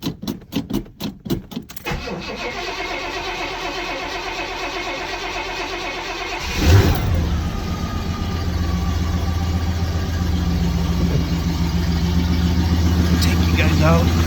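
A 1970 Pontiac GTO starts after a few cranking pulses, then settles into a loud, steady idle that climbs slightly in pitch as it warms up, with a short surge partway through.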